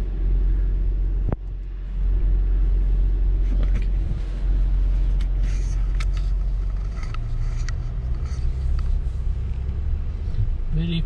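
Audi Q7 V6 engine running quietly while driving, a low steady rumble from inside the cabin that stays even throughout with brief faint clicks and rustles.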